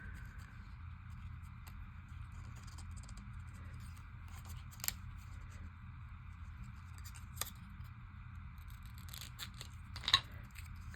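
A few sparse scissor snips through paper stand out as faint, sharp clicks over a soft steady background, with longer gaps between them.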